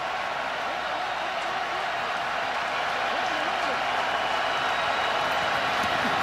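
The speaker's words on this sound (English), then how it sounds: "The crowd gets loud." Stadium crowd roaring steadily at a UFL semifinal playoff football game between Louisville Kings and St. Louis Battlehawks, a dense sustained wall of cheering with a commentator's voice running over it.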